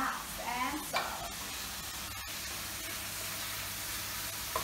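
Vegetables sizzle and soften in a hot pan with a steady frying hiss, briefly stirred at the start and with a couple of soft knocks, close and continuous, for a spinach rice dish with BBQ chicken.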